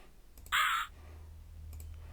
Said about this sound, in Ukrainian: О, ворон.